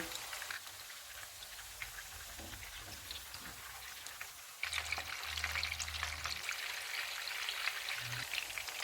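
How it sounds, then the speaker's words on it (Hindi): Gilafi kebabs fry in hot oil in a pan over low to medium heat, a steady faint crackling sizzle that grows slightly louder and busier halfway through. "इनको हम सारी साइडों से गोल्डन फ्राई कर लेंगे।"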